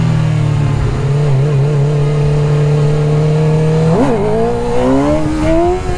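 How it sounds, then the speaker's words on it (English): A car engine revs hard in first gear under uneven throttle, holding a steady drone before climbing sharply in pitch as it accelerates, loud and close, with no voices. "Damn, I am not smooth on the throttle in first gear at all."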